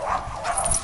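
Newborn, nearly blind puppies of a small Labrador-like nursing mother whimper and yip softly, a brief close cluster of thin whines under faint background noise.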